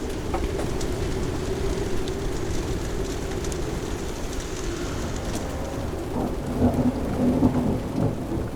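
A thunderstorm at sea seen from a sailboat: heavy rain pours steadily while low thunder rumbles throughout and swells louder near the end, with no voices.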